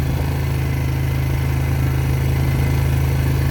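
A farm tractor running a brush hog mower gives a steady, continuous engine drone at an even pitch, fairly close and loud, with no voices over it.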